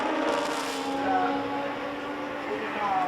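1973 Formula One race cars, including a JPS Lotus and a Yardley McLaren M23, at the British Grand Prix, their engines a continuous distant whine with gently shifting pitch as cars circulate, under a television commentary voice.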